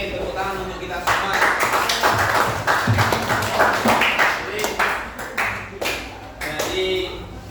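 An indoor audience claps together for several seconds, a dense patter of hand claps rising quickly, holding steady, then thinning out near the end.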